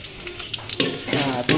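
Food sizzles and crackles in hot oil as it is stirred, with brief scraping bursts building toward the end.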